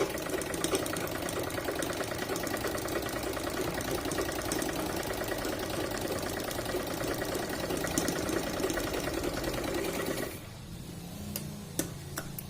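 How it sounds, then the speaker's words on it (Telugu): Sewing machine stitching a second line as a double stitch on a maggam work blouse, a fast steady rattling hum running close and loud for about ten seconds, then stopping with a few faint clicks. "నేను ఇంకొక డబుల్ స్టిచ్ కూడా వేసేస్తాను"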